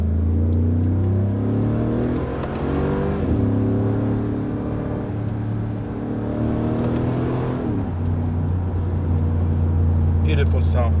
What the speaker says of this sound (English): I love this engine, guys. It's powerful, it's torquey, and it sounds so good.